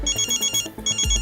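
A mobile phone ringtone rings in a TV drama scene, a loud electronic pulsing pattern with repeated beeps, briefly pausing before the tune resumes.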